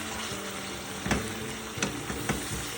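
Frozen green coriander sizzling in a pan for chicken curry, a continuous frying crackle with a few sharp stirring clatters close by.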